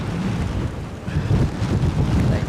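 Strong gusty wind buffets the microphone at Edinburgh airport, a continuous low roaring rumble that surges and dips in loud gusts with no other clear sounds.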